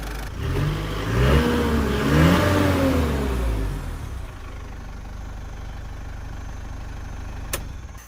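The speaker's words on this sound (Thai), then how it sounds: "เดี๋ยวเราฟังเสียงแล้วผมลองเร่งเครื่องให้ดูก่อนนะครับ" A car engine revs up loudly, rising and falling in pitch for a few seconds before dropping back to a quiet idle.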